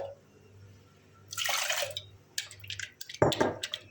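Leftover boiled beet water being poured into noodle dough, a few splashy bursts of liquid and a louder gush near the end, close by over a quiet kitchen hum, with no speech.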